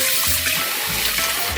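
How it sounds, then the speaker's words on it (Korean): Rice-washing water is poured over a cleaned Spanish mackerel to soak it, a loud, steady close splashing and rushing of water filling a bowl, continuous for the whole short moment with no voices. "쌀뜨물을 이렇게 해서 생선을 이렇게 담가주면은 생선의 비린맛을 잡아준답니다"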